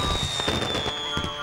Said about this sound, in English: arrived at the funfair as the fireworks began